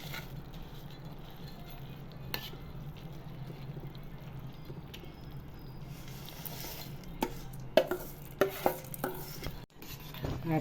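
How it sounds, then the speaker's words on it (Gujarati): Boondi gets stirred into hot sugar syrup for motichur laddu, a soft, quiet mixing swish with a low background hum, a few sharper spoon clinks and knocks toward the end. "ચાસણીની અંદર બુંદી મિક્સ કરી દીધી."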